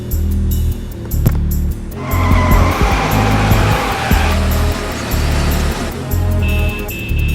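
A car pulls away with tires skidding and screeching, heavy engine noise rising in bursts over a steady low rumble, loud and close, in a Malayalam campus short film scene.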